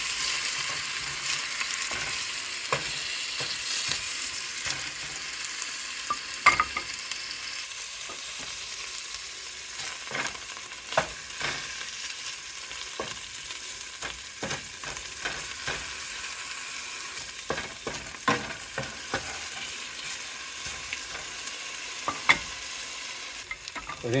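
Ginger and onion frying together in a hot pan while being stirred, with a steady close sizzle and scattered scraping clicks from the utensil throughout, no voices.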